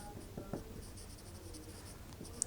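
Pen scratching across paper while a math solution is written out, a continuous close scraping with a few sharper strokes, steady and fairly quiet with no talking.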